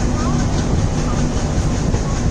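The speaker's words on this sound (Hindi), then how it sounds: "गाइस फाइनली हमारी ट्रेन डिपार्ट कर चुकी है फ्रॉम सिंधुदुर्ग" The Madgaon–LTT double decker express train runs on the Konkan line just after leaving Sindhudurg, a loud, steady rumble of wheels and carriages filling the whole stretch, with a voice partly audible under the noise.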